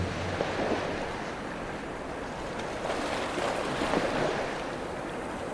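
Ocean waves roll steadily near a lighthouse at night, a soft, continuous wash of surf with gentle swells, wind-blown and unbroken, with no voices over it.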